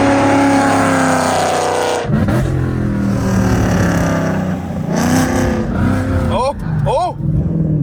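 Car engine revving loudly during a launch, with a roaring, rising and falling exhaust note and sharp rev sweeps near the end, close inside the car, while voices talk over it.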